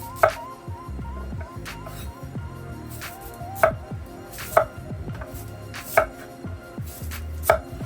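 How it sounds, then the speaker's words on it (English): A knife chops a sweet potato on a cutting board in a series of close, crisp thuds, spaced unevenly and firmer toward the end, with no voices. "we're going to chop that second one up just like so"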